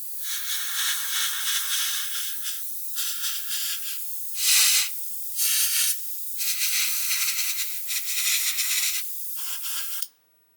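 Paint is sprayed onto a 1/24 Airfix Bf109 G-5/G-6 plastic model kit in a series of close, hissing bursts of varying length, with brief pauses between passes before the spray stops abruptly.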